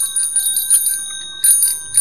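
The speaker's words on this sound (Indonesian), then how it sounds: "Juga suara bel dari sepeda ontel." Loud, close ringing of a bell on an old-style Indonesian ontel bicycle, heard as rapid metallic trills in two bursts with a short pause between them.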